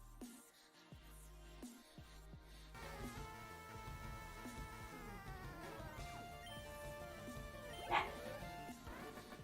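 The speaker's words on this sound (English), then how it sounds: "I don't know what you keep barking at, but you need to chill." A small dog yips and barks in short bursts over a busy background of music and Pokemon LeafGreen game sounds, with one sharper yelp near the end.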